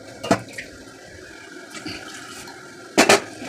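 Water poured over cut potatoes in a kitchen, a short splash at the start and another louder pour near the end, with faint background noise between.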